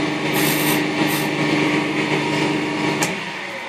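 A turned wooden snowman ornament is sanded with sandpaper, giving a continuous close rasping rub with a steady hiss that holds for several seconds and then eases off, heard without talk.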